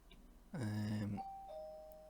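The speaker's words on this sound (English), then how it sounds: "There's my doorbell ringing." A doorbell rings with a two-tone ding-dong, the first tone loud and ringing, followed by a fainter lingering electronic chime.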